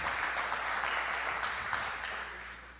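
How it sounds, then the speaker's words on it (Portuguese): Church congregation applauding during a worship service, a dense, continuous wash of clapping from a crowd that holds steady and then gradually tapers off. "Palmas para Jesus."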